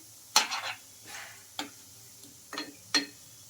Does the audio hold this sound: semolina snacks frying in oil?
yes